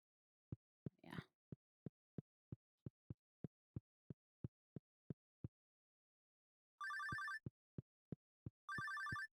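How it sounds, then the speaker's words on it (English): A video-game telephone in Stardew Valley Expanded rings in two short, bright electronic bursts near the end, following a long run of evenly spaced soft footsteps. "I don't know why the phone always goes at this."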